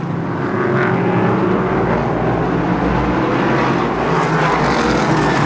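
Short track race cars speeding around a small oval at a 2018 super short track race, engines roaring in a continuous loud rising and falling drone as several cars pass, no talking.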